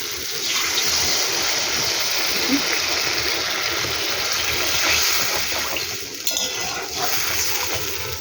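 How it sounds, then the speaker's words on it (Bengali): Water pours steadily into a pan of spiced fish curry with papda fish, a continuous close rushing and splashing that lasts several seconds without talk. "এবার আমি জল দিয়ে দেবো।"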